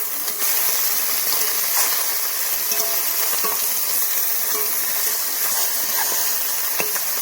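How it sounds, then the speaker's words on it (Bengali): Fish fries in hot oil in a pan while it is turned over, a steady loud sizzle and hiss throughout with a few faint clinks of the turner. "মাছ ভাজাটাকে আমি উল্টিয়ে দিচ্ছি।"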